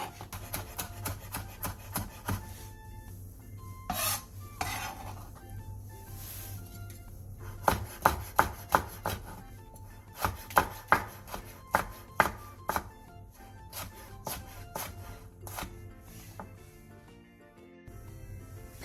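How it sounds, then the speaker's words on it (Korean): A knife chops half a green onion finely and slices half a red chili on a cutting board, with many crisp close taps in steady bursts and brief pauses, no talk. "대파 2분의 1개를 쫑쫑 썰고 홍고추 2분의 1개는 어슷 썰게 해주세요."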